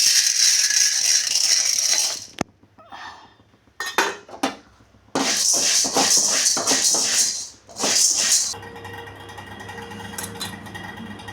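Chana dal tipped into a pan while spices dry roast, giving bursts of dry rattling and scraping against the metal, loud and close, in several spells over about eleven seconds, with a softer steady sizzle near the end.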